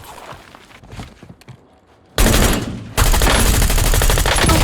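Pistol gunfire in Call of Duty Warzone, starting with scattered quieter game sounds and then breaking into loud, dense rapid shooting that continues to the end, very close.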